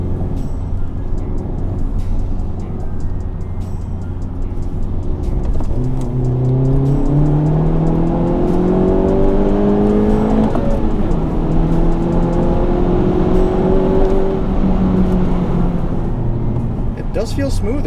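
A Honda Civic Type R with a history of transmission trouble accelerates through the gears, its engine note climbing in pitch, dropping at each shift and climbing again over a steady road and cabin drone.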